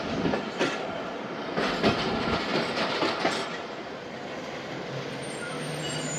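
The Karachi Express rolls into Khanewal railway station with a steady, loud rumble of wheels and carriages, broken by clattering rail joints and a faint squeal, and no voices.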